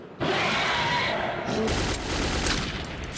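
Sustained loud gunfire from the video game Metro 2033 erupts and continues as a dense, rattling burst of shots, with a voice audible underneath.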